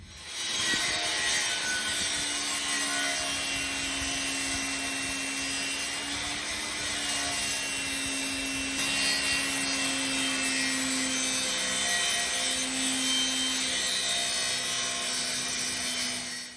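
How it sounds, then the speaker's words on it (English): A table saw cuts a 45-degree angle in framing lumber for a wooden door, a loud continuous whine and rushing roar that holds steady for the whole cut. "I'm going to see about if I can actually use my table saw to cut like a 45 degree and 45 degree"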